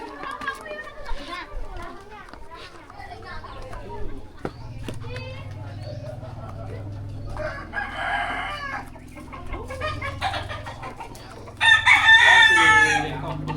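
Roosters crow at cockfighting camps in Ubud, Bali, with clucking fowl and children's voices around them; people chat nearby while a loud crow rises near the end.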